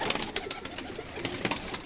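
Pigeons scuffling inside a loft, with brisk irregular wing flaps and short bursts of coos close by, no voices over them.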